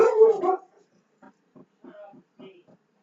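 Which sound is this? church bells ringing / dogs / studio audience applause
dogs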